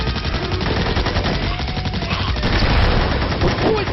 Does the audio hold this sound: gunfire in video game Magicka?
yes